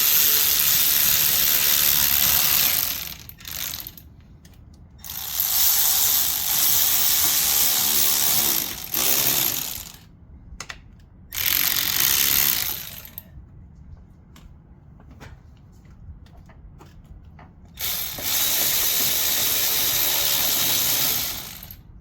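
Ratcheting and wrench work while tightening down a cold air intake on an Infiniti G35 Coupe, close up, in bursts of clicking and creaking separated by quiet pauses.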